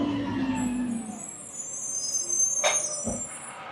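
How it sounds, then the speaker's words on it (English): A garbage truck passes nearby, its engine rumbling steadily, with a sharp air-brake hiss and a thud partway through, moderately loud against quiet surroundings. "The trash truck is passing by."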